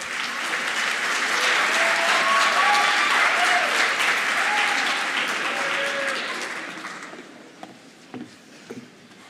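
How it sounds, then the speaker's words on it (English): Sustained applause from a sizable audience, steady and full before gradually thinning out into scattered claps and faint murmurs. "Let's give her a round of applause"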